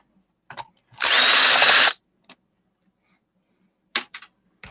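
Power screwdriver backing out screws while scrapping an electronic device: one loud buzzing burst of about a second, surrounded by brief clicks and handling taps in otherwise quiet surroundings.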